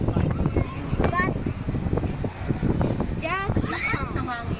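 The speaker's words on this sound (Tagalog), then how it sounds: "Lakas ng hangin." Strong gusting wind buffets the microphone high on a Ferris wheel, a steady roar throughout with people talking over it.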